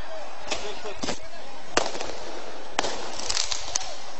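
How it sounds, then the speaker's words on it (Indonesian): Firecrackers thrown during a street clash with municipal enforcement officers pop in sharp, scattered bursts, several loud cracks spaced over a few seconds above a constant hiss of background crowd noise. "Bahkan dari pihak warga sendiri telah melempar petasan ke arah Satpol PP"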